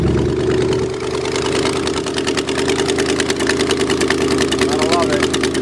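Chevy-powered Snowmaster engine running after a cold start, with a loud, close, steady rough idle and pulsing rhythm throughout, and a voice briefly heard over it.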